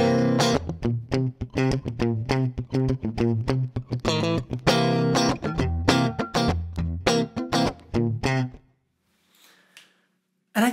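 A clean electric guitar played through an FM9 with a touch of room reverb rings out in plucked, rhythmic chords and single notes, close and full, then stops and the reverb tail decays into near silence.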